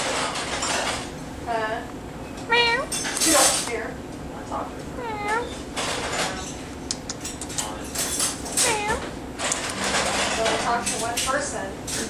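A kitten meows repeatedly in short, rising cries, close by, between clinks of dishes and a person's voice.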